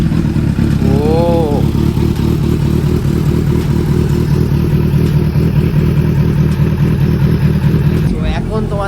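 A Kawasaki Z900 motorcycle cold-starts and idles loudly up close, a deep throbbing engine rumble held steady throughout with a brief rising whine near the start and a sharp change at the end.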